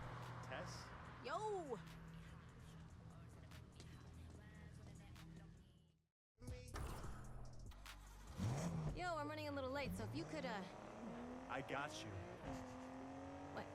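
Cars accelerate in the racing video game Need for Speed Unbound, with engines revving up through rising gear sweeps, loud and close, broken by a brief silent gap, while people talk over the game sound.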